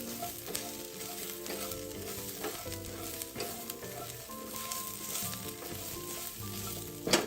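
Lemongrass stir-fried in a wok, a steady close sizzle and hiss with scraping and stirring clatter running throughout, a louder clank near the end.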